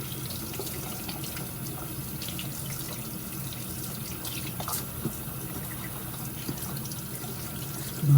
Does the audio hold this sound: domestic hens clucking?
no